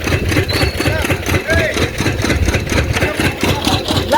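A tractor engine idles nearby with a low, steady rumbling chug that holds through the whole stretch. Occasional faint background sounds sit over the motor.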